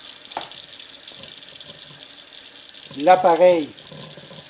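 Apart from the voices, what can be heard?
tap water running into a sink to clean a rotary cheese grater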